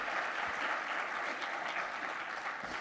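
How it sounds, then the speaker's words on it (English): An audience at a technology conference session claps for a presenter, producing loud, even, sustained applause that fills the room without any talk over it. "let's give a round of applause for Alex."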